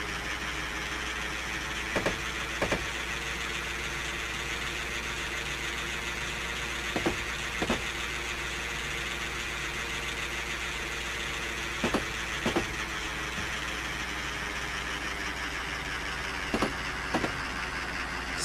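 A locomotive in Train Simulator 2016 labours up a 1.7% grade on a forest mainline, a steady loaded engine drone with low rumble, broken by paired clicks of rail joints at regular intervals.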